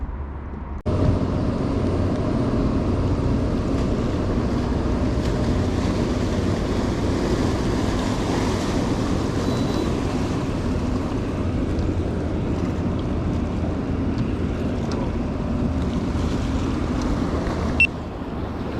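Steady wash of water and wind noise from a boat on open water, rocked by another boat's wake, with waves sloshing continuously throughout and no talking.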